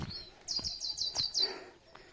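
Birds call at Vetal Tekdi hill in Pune, a rapid series of high, bright chirps in a quick run of about six notes, moderately close over quiet outdoor background.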